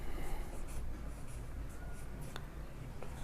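Pen or pencil writing on paper while a physics problem is worked out, a soft continuous scratching with small taps, close and steady under faint room noise, with no talking.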